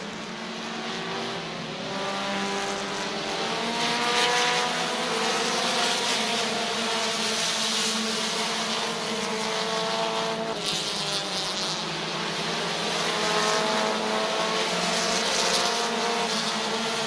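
Race cars roar side by side for the lead at Midvale Speedway, engines droning loud and steady with rising and falling pitch as they circle the track, continuous for several seconds without speech.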